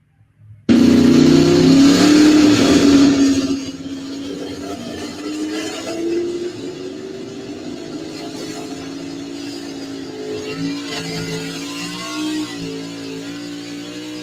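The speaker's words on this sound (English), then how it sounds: "Here is the run from Ashton off the Ashton tractor pull page." A pulling tractor on its first-ever competition run at the Ashton tractor pull, starting with a loud roaring engine rev that drops after a few seconds to a sustained, slightly wavering drone as the run continues, heard at a distance without talking.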